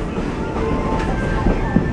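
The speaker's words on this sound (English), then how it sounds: "they're looking at the train going by" A train rumbles past nearby, a steady low roar with faint rhythmic clatter and a brief clunk near the end.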